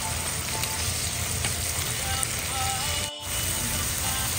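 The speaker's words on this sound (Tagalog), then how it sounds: "ginigisa ko na po ang ating chicken liver, ang ating chicken gizzard, at ang ating hipon po" Chicken gizzard, chicken liver and shrimp sizzle steadily in a hot pan for pancit, a dense continuous frying hiss with faint stirring scrapes and a brief dip near the end.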